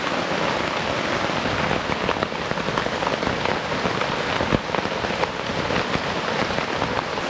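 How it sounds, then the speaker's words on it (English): Rain falls steadily on a Coleman Sundome 2 tent, a dense even patter of drops drumming on the fabric, constant and moderately loud with no voices. "as you all can see, it is raining"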